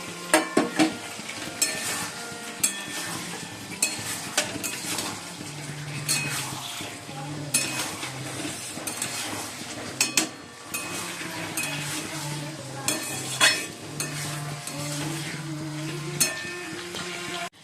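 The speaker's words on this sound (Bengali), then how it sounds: "চিকেন ভাজাগুলো দিয়ে দিলাম।" Fried chicken pieces are stirred into chili chicken in a pan, with sizzling under repeated scrapes and clinks of a spatula against the metal, loud and close, alongside tonal background sounds.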